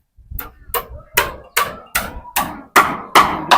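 Nails are hammered while building a house for a blind grandmother: eight sharp, evenly spaced hammer strikes ring out close by, growing slightly louder as they go.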